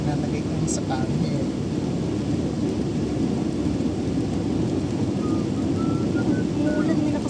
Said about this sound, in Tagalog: Umuulan, may nakasampay dito.